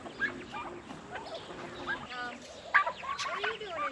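Poultry clucking and calling in a chicken area during feeding chores, scattered close and mid-distance calls over a low background murmur with some faint talk.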